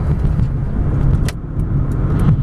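A 1987 Mazda 626 driving and shifting through its gears, heard from inside as a steady low engine and road hum with a few brief sharp rattles or clicks over it.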